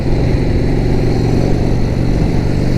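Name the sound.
1976 Harley-Davidson Ironhead Sportster motorcycle engine while riding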